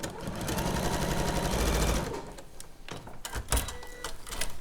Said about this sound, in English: we're just going to sew that with a 1/4 inch seam